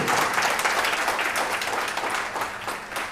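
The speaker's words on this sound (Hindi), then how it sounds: "एक बार जोरदार तालियां आप अपने लिए और अपने अपलाइन के लिए बजा लीजिए" A seminar audience breaks into loud applause, a thick burst of many hands clapping that stays strong before tapering slightly toward the end, with no voices over it.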